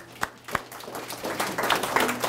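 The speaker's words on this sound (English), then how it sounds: "I think they deserve a round of applause" An audience at a community history event applauds local historians. Two isolated claps are followed by clapping that swells into steady, dense applause from a modest crowd.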